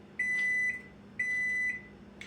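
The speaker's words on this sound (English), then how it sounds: "microwave's done." A microwave oven beeps when its cycle is done: two long, identical high beeps with a short gap between them, then the start of a third, close and moderately loud in a quiet kitchen.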